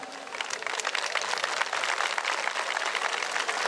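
A crowd at a traditional wrestling festival in Erfelek, Sinop, applauds with dense, continuous clapping, loud and fairly close, holding an even wash of claps from start to finish.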